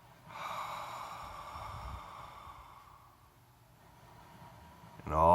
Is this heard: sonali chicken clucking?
no